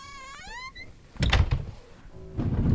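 A back door opens in a horror-style indie video game: a sharp thunk and a burst of creaking noise follow a rising tonal effect, then a second louder rumble of movement at the end, with no talking.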